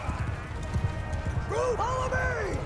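Cavalry horses gallop across a medieval battlefield in the video game Mount & Blade II: Bannerlord, with a steady drumming of hooves throughout and whinny-like cries rising over the second half.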